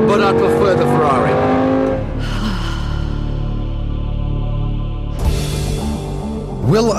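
Lamborghini Gallardo SE howling around a track under hard driving, its engine revving up and down through gear changes with tyre squeal, loud and close, with someone talking over it.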